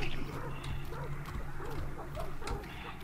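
Dogs in the video game Hunt: Showdown bark and growl in a short burst, moderately close, mixed with other game noise and a talking voice.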